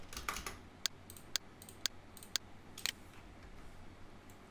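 Sharp, isolated keystrokes on a computer keyboard while entering AutoCAD commands, a handful of crisp clicks spaced irregularly over quiet room tone.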